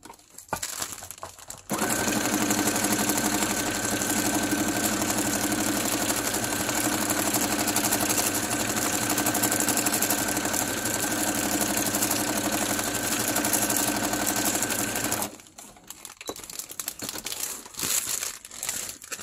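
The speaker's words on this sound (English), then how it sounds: "So this way I'm gonna be sewing through to all these edges." A sewing machine stitches through paper around the edges of a washi-taped window, a steady fast mechanical whir with crinkly rattle. It runs continuously for about thirteen seconds between short quieter handling sounds.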